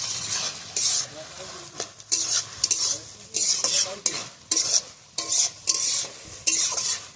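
Shrimp frying in a pan are stirred in repeated bursts of scraping and clattering that ride over a constant sizzle, the strokes coming about once a second, close and fairly loud.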